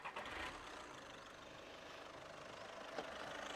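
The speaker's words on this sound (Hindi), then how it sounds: "मैं इंजन को स्टार्ट कर लेता हूँ एक बार।" The diesel engine of a used VW, Audi or Skoda car idles with a low, steady rumble after a brief rougher surge at the start, fairly faint and heard alone without voices.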